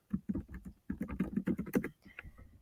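Quick, close runs of clicks from fingers typing on a computer keyboard, with two rapid bursts of keystrokes and a brief pause between them.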